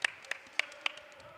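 Swimmers clapping at a pool, a handful of sharp, separate claps spaced a few tenths of a second apart, close and crisp over a quiet background.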